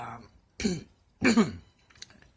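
Two harsh, heavy coughs about half a second apart, close and loud, followed by a faint short throat sound; no talking.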